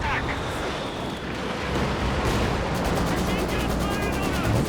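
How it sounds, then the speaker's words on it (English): A Katyusha rocket barrage in the strategy game Company of Heroes 2 sends out a dense, rumbling volley of launches and blasts with rapid pulsing bursts, and someone commentator talks over it. "Going after the mortar with this Katyusha barrage."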